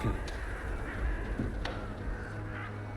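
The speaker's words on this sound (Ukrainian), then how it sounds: "Якщо вже ворони на смітнику гніздяться." Crows cawing around a dump in the game Stalker 2, a few scattered calls over a steady low ambient rumble, moderately distant.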